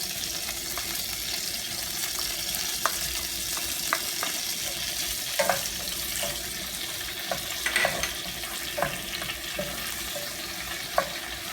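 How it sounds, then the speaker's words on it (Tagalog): Garlic sizzles steadily in margarine and a little oil, a continuous broadband frying hiss with scattered sharp crackles and pops, close and alone without talk. "inuna ko po yung star margarine saka konting mantika. Tapos po, lalagay ang bawang."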